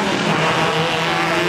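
A highly modified Jeep Wrangler drifts on a road, giving a short, loud burst of tire squeal and skidding over a roaring engine.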